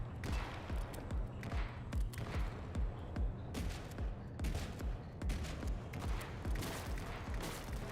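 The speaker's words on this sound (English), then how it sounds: "we have a freaking grenade launcher?" A grenade launcher firing in a video game produces dense, rapid bursts of loud gunfire repeating steadily throughout, with no talk.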